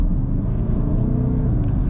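A 2013 Porsche Cayenne Turbo's engine hums at steady speed on the highway, a deep low rumble with road noise, continuous and close, no voices.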